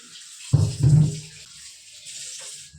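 Water poured into a cleaned raw fish, two short splashing gushes close by, the second slightly longer, then quiet.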